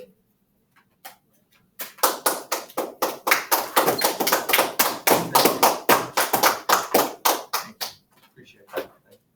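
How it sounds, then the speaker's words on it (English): A class of pre-algebra students gives a burst of applause, scattered claps building into a fast, dense, fairly close round of clapping for several seconds before tapering off into a few last claps. "It's like a bonus applause."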